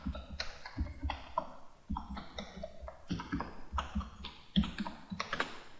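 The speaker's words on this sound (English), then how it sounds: "I just went right across my keyboard" Fast typing on a computer keyboard, a run of crisp, clustered key clicks in irregular bursts, close and fairly loud, with no voices.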